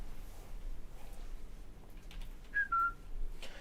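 A short whistle in the wartime shooter Sniper Elite 5: two quick rising-then-falling notes, faint against a soft, steady outdoor ambience, with no talking.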